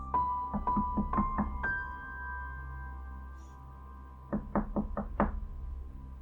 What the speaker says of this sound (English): I knocked on their door.